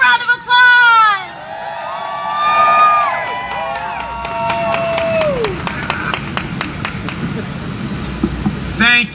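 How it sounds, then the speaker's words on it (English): An outdoor rally crowd outside Hearst Tower on West 57th Street claps and cheers, whoops and shouts rising over steady applause, with sharp individual claps and passing street noise beneath. "Let's give a warm welcome, a big round of applause."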